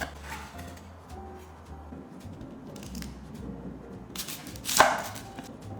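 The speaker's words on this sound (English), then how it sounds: "For the garlic, give it a rough chop." A knife roughly chops garlic on a cutting board, giving quick irregular taps and light thuds, with a sharper cluster of cuts near the end.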